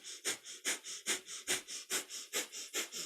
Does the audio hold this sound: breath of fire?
yes